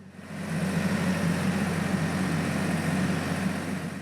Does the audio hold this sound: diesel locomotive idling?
yes